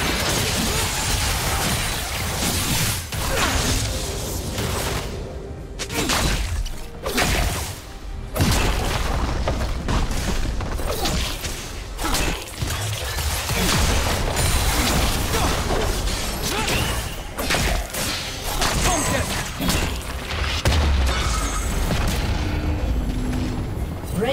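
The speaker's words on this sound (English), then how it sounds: "Team's turret has been destroyed." A turret collapsing in League of Legends during a mid-lane match, heard as dense, loud crashing booms and mechanical clatter layered over constant game noise, with a few sharper hits rising out of the din.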